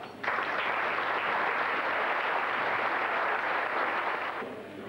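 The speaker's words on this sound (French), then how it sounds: "nous allons demander à tout le monde de vous applaudir très fort" Loud applause from an audience at an association's general assembly starts abruptly and holds as a dense, even wash of clapping, then eases off slightly at the end.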